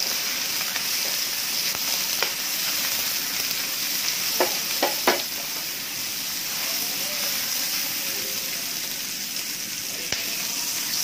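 Fried rice with shrimp and cooked rice frying in a small pan, a steady loud hiss and sizzle that runs throughout, broken by a few faint clicks of a utensil stirring.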